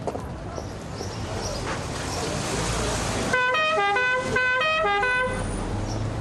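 Horn of an old car honking in a repeated pattern of short toots, loud and close, over outdoor street background with people talking nearby.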